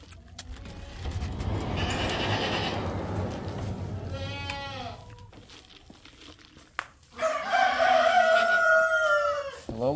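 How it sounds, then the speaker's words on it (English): Goats bleat inside a barn, several wavering calls rising from the animals, with a loud, close burst near the end over steady shuffling and background noise. "let's go talk to some goats"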